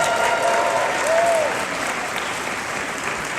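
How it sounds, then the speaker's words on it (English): A large audience at a live real estate training event gives a giant round of applause, loud and continuous, with a brief whistle and cheering mixed into the clapping. "can we thank some of the absolute best in the business with a giant round of applause?"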